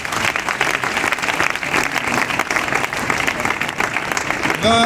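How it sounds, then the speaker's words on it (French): A large crowd at a Christian festival opening in Burkina Faso claps and cheers continuously, loud and dense throughout, with voices mixed into the roar. "Est-ce qu'on peut acclamer pour le Seigneur Jésus-Christ?"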